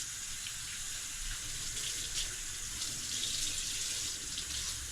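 Tap water runs steadily into a sink while a muskrat hide is rinsed, a continuous even splashing hiss with no voices.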